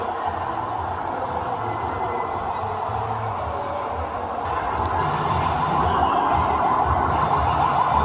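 A fire engine siren wails steadily at an indoor children's play city in Lviv, a continuous moderately loud tone over busy background noise that grows slightly louder toward the end.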